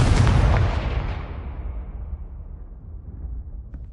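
A big blasting-spell explosion from the Hogwarts Legacy video game: one loud, close boom with a heavy low rumble that slowly fades away over a few seconds.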